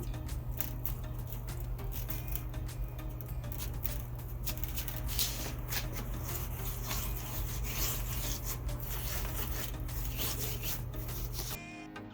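Salt, lemon pepper and herbs are rubbed and pressed into lamb in a steady, close scratching and rubbing sound that continues with little pause before stopping abruptly.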